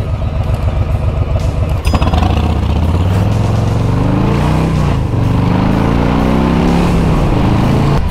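A 2022 Harley-Davidson Nightster motorcycle accelerates hard, its engine loud and close with a deep rising roar that climbs through gear changes, with one brief shift break early on.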